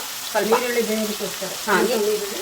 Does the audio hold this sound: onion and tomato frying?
yes